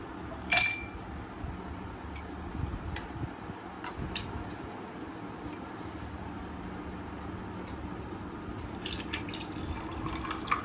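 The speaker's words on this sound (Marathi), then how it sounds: "आता मी दोन सर्विंग ग्लास घेतलेले आहेत पहिले बर्फ घालते मी" Ice cubes drop into two serving glasses before a chilled raw mango cooler is poured. One clear clink is followed by faint, scattered ticks and drips against a quiet background.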